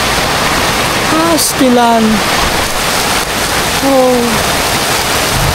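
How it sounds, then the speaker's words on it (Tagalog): Heavy rain pours down in a loud, unbroken hiss close by, while someone speaks briefly over it. "Ang lakas na naman ang ulan."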